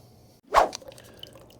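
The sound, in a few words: melting ice water draining from transfer pump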